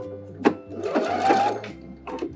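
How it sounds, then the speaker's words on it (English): A sewing machine stitches around the sleeve of a puff-sleeve babydoll dress. The motor gives a close, steady whir for about a second and a half, with short bursts before and after. "I'm gonna go ahead and sew all the way around right outside my serge"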